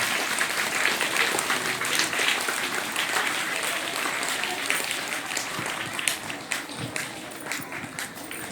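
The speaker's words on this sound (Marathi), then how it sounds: "विद्यार्थ्यांनी जोरात टाळ्या वाजवायच्या आहेत" Students at a primary school fun fair in Wambori clap loudly together during a Saraswati puja ceremony, a dense and continuous wash of many small hands that holds steady before slowly thinning out.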